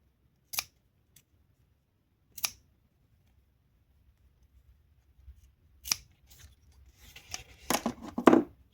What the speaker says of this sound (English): I will fold the fabric and cut the little half circle to make it easier.